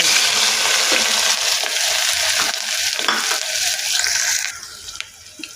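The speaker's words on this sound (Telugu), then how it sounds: "నూనె కాగాక ఉల్లిపాయ పచ్చిమిరపకాయ ముక్కలు వేసుకోవాలి." Onion and green chili pieces fry in hot oil in a pressure cooker pot for chicken pulusu, giving a steady, loud broadband sizzle that crackles on and eases off near the end, with no talk.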